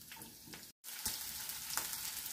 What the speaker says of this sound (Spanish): Pondremos un chorreón de aceite de oliva, un poquito de sal. Pondremos los pimientos a freír.